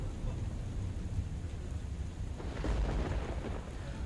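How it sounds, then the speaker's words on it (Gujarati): Heavy downpour over Veraval in Gir Somnath, a broad steady roar of rain with a low rumble, swelling slightly in the second half, no voices. "સમગ્ર પંથકમાં વરસ્યો છે ધોધમાર વરસાદ."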